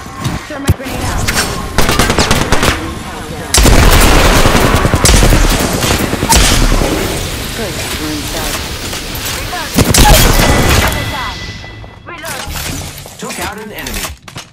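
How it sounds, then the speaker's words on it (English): Apex Legends combat: a grenade blast and shattering crashes mix with dense, loud gunfire bursts, while voices talk over the fighting before it fades near the end. "Throw my grenade out."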